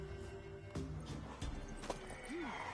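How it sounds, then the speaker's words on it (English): Horse in the video game The Witcher 3 neighing with a short whinny near the end, over clip-clopping hooves and a few sharp thuds, close and moderately loud. "Worthy of the best horse. The mare is yours."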